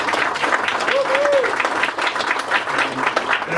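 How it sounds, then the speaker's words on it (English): A crowd applauds a staff member at a restoration celebration event, giving a loud, sustained wash of clapping with a brief vocal whoop or call rising above it partway through. "everybody give a nice applause to Jennifer Moody."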